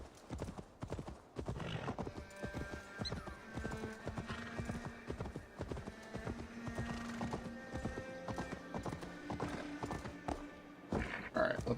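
Horse hooves clip-clop steadily in Assassin's Creed Valhalla, a quick rhythmic trot with an occasional whinny, up close against the game's ambient background.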